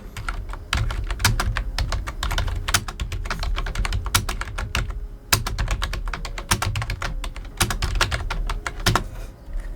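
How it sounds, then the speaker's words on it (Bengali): Rapid, steady typing on a computer keyboard, including a Ctrl+Alt+V key combination, with dense close clicks and brief pauses throughout and no talking. "এবার Ctrl+Alt+V চাপবো।"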